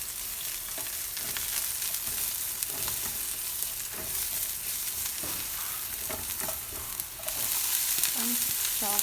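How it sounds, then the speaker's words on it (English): Green chilies and garlic sauté in a pan with a steady, close sizzle of hot oil, broken by the scrape and clink of stirring throughout. "First I am adding the green chilies, saute for few minutes, then garlic,"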